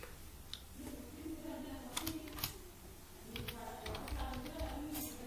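Typing on a computer keyboard while setting a password, a scatter of quick soft key clicks in uneven bursts, fairly close and quiet over low room noise, no talking.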